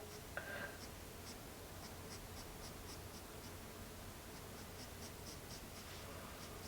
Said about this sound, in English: Just skimming it along the surface of the paper right there